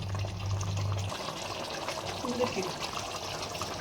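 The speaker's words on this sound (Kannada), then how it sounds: "ಈಗ ನೀರು ಹಾಕೊಳ್ಳೋಣ" Water is poured into a pot of simmering country chicken biryani, giving a soft, continuous trickling pour heard fairly quietly and close, with faint background sound around it.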